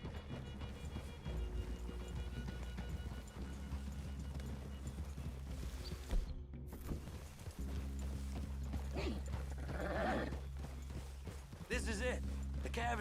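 Horses walk in Red Dead Redemption 2, a steady clip-clop of hooves on the ground running throughout, with voices talking over the hoofbeats.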